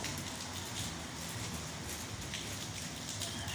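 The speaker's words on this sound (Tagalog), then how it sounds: "tatlong araw na itong ulan nito" Steady rain falling on a surface, a dense even patter close by with no voices.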